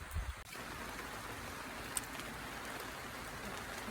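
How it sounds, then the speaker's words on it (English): Steady rain falls on Salt Spring Island, British Columbia, a dense, even hiss that fills the whole stretch after a brief knock at the start, with one faint tick partway through. "Rainy day, but I guess with 2 months of no rain, they kind of need it"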